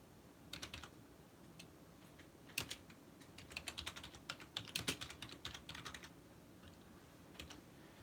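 Quiet computer keyboard typing, close by, in uneven bursts of soft clicks with a few louder keystrokes, over a faint steady room hum, no voices.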